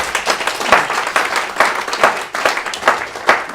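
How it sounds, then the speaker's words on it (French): A church congregation claps and applauds in praise, a dense burst of close hand claps in uneven pulses that swell and dip for a few seconds. "Applaudissez Jésus-Christ, alléluia."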